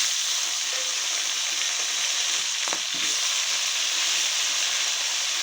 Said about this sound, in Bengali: আলুটা এখন লাল করে ভেজে নেব